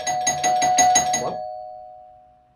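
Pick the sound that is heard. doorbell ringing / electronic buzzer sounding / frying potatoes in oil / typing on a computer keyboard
doorbell ringing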